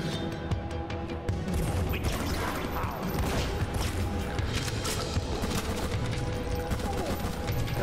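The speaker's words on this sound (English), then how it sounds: "That's a rocket launcher." Heavy weapon fire in the side-scrolling action game Huntdown, a dense, continuous barrage of loud gunfire, blasts and crashes with game music running underneath.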